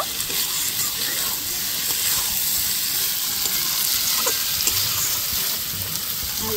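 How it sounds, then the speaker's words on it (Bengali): Prawns being stirred in a frying pan while cooking a Bengali village chorchori, a continuous close hiss and sizzle of hot oil with soft scraping of the stirring throughout. "চিংড়ি মাছটা দেওয়ার পরে খুব ভালো করে আবারও নাড়া দিয়ে নিব"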